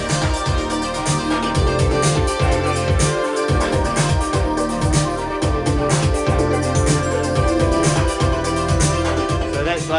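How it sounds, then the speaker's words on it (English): Arturia Jupiter 8 synthesizer plugin playing a dense, continuous arpeggio in a full mix, rapid repeating notes over a steady bass pulse, loud and unbroken throughout. "So what you're hearing there is the arpeggio."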